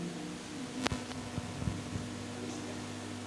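An electric fan hums with a steady low drone and a faint rhythmic throbbing, filling a quiet indoor room at a religious study session with a few soft knocks and no talk over it.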